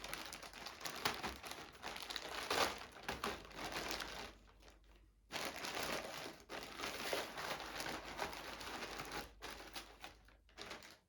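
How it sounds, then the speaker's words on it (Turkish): A plastic Temu package is torn open and its wrapping crinkled nearby. The rustling comes in dense bursts with brief pauses, and nobody speaks. "Evet paketi şu anda birlikte açıyoruz."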